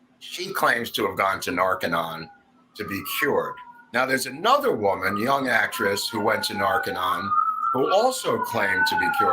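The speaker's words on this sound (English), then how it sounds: "That's the ambulance taking them to Narconon that just went by." An ambulance siren wails outside as it passes by, a faint rising and falling tone running under continuous close talking for most of the stretch.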